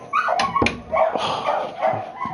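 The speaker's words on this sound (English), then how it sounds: "Dogs go mental." Several dogs bark and yip excitedly in short overlapping bursts, close and fairly loud, with a whimpering quality between barks, heard during an online F1 2020 racing league event at Bahrain.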